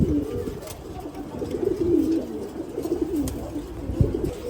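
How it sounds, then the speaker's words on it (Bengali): Pigeons in a breeding loft coo continuously, overlapping throaty rolling calls near and moderately loud, with a brief thump near the end. "এটা হচ্ছে ভাইয়ের ব্রিডিং লফট"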